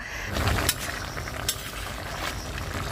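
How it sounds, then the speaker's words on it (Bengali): Ridge gourd and potato frying with spice paste in a pan, a steady close sizzle with a few sharp clinks of utensils and stirring, no voices. "মশলাটা দিয়ে ভালোভাবে ভেজে নিচ্ছে"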